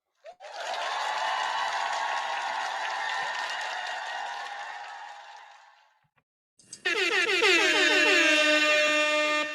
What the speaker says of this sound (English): I gotta give you the air horn, Jason.